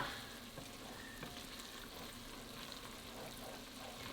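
Onions and garlic simmer in a pan, making a steady, faint, even frying hiss that runs unbroken throughout with no talking.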